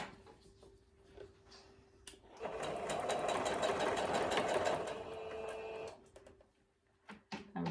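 A sewing machine runs steadily for a few seconds stitching quilt blocks for a basket block, close up, framed by quieter handling clicks and brief mechanical taps before and after.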